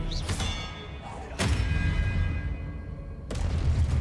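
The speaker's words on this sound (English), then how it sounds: "the Expelliarmus and throwing their weapon back at them is amazing" Expelliarmus disarming spells cast at enemies in Hogwarts Legacy, heard as three sharp magical bursts with thudding impacts spread over a few seconds above a steady, busy game backdrop.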